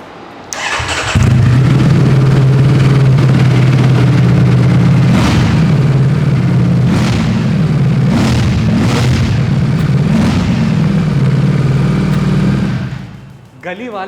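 Ducati Streetfighter V4 motorcycle exhaust fires up and holds a loud, steady deep rumble close to the silencer, with several sharp revving blips and pops standing out over the drone before it cuts off near the end.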